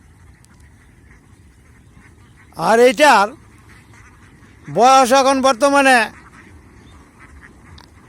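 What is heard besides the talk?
male native duck quacking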